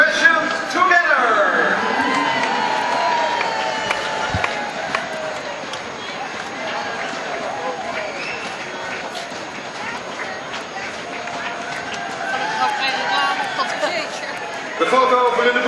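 A large crowd cheers and applauds team 140 Passion Together at the Roparun 2008 finish area, a steady wash of noise that continues throughout while an announcer speaks over it.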